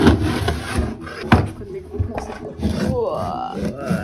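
A scraper works tape residue off a wooden kitchen cabinet, giving rough, uneven rubbing strokes with a few sharper scrapes. A voice is heard nearby.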